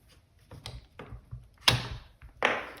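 An L85A1 semi-auto rifle's bolt carrier group slides back and out in a short series of close metallic clicks and scrapes, with a few sharper clacks as the parts shift and separate.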